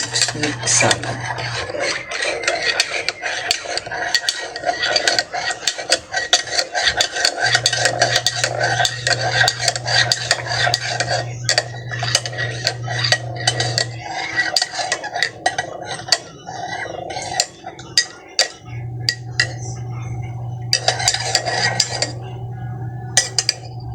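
A spoon stirs coffee in a cup, clinking and scraping rapidly against the sides in a steady, close rhythm for a long stretch, with a low hum running underneath and a few pauses.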